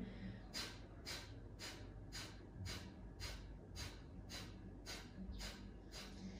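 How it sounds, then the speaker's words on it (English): Kapalabhati breathing during a fire-themed core yoga class: a quick, even series of about eleven forceful nasal exhalations pumped from the belly, soft and close, each a short puff of air. "Inhale halfway and start your Kapalabhati."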